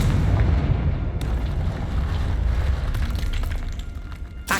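Confringo blasting spell in Hogwarts Legacy bursting with a loud, booming explosion, heavy low rumble sustained for several seconds with a sharp crack partway through and a final pop, no talking.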